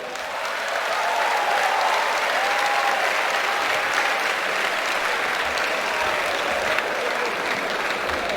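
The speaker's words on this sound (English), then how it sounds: "I advise that you keep clapping" Large audience of students at an orientation programme applauds continuously, a thick even roar of clapping throughout, with faint voices or whoops mixed in early on.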